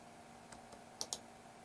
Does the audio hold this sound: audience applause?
no